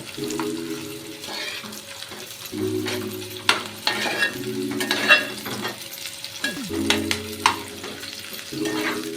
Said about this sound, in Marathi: त्यामध्ये थोडासा कढीपत्ता टाकायचा आहे चांगलं फ्राय करून घ्यायचं आहे